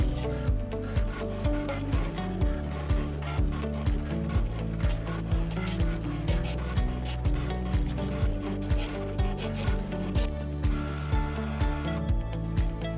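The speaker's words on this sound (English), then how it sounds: "we are simply going to load our Polytwill onto our cutter and press start" A fabric cutting machine works through patch-backed Polytwill, giving a steady mechanical run of regular ratcheting clicks and whirring strokes, loud and close, with no voices.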